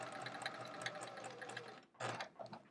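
A sewing machine runs steadily while stitching a quilt block for a chevron quilt, its needle whirring close and continuous, then pausing briefly before two short bursts of stitching.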